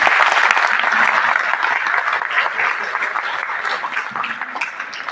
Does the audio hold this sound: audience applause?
yes